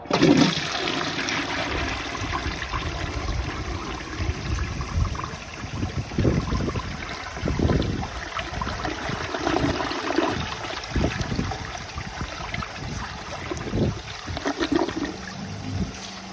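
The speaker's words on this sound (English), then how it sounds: "So first I'm going to start it off with a dry bowl because I just set this toilet up" A 1953 Gerber Arlington toilet flushed with a dry, empty bowl: a loud rushing gush of water surging and gurgling in uneven pulses, then trickling and refilling, heard alone without talk.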